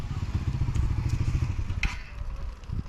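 Small Suzuki GSX125S motorcycle engine running at a steady, uneven idle with fast put-put pulses, close by and fairly loud, with a few light knocks over it.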